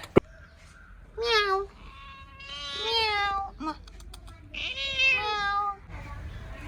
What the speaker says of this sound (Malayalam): നമ്മൾ ഈ തുട്ടുപൂച്ചനെ കണ്ട്